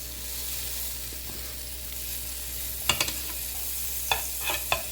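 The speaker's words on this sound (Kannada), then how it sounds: "ತವ ಕಾದಿದೆ, ಬಟರ್ ಆ್ಯಡ್ ಮಾಡ್ಕೊಳ್ಳೋಣ" Butter melting on a hot tava gives a faint, steady sizzle, and a few sharp clinks of a utensil land near the end, close by and alone without voices.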